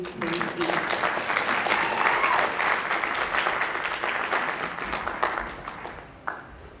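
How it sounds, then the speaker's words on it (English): Conference audience applauding steadily in a hall, a dense wash of clapping that holds for several seconds before tapering off near the end, with a few scattered claps lingering. "with a sound of applause, let's welcome Tanisha Jackson to the stage."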